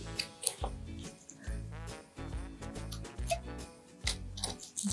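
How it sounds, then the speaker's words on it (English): Scissors making short snipping cuts through fabric close to tape during a Christmas ornament stitching project, a series of crisp, close, quiet clicks and snips in an uneven rhythm. "we can remove the tape and use our scissors and cut really close."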